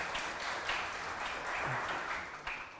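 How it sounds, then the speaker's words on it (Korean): A conference-room audience applauds steadily to welcome Democratic Party leader Lee Nak-yon at a meeting with small-business owners. The clapping is continuous and fairly quiet, with no voices over it. "큰 박수 부탁드립니다."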